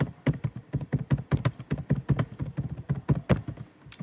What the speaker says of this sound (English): I'm going to type a bunch of numbers right here.